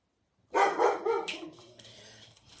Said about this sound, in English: Big dogs have big bark.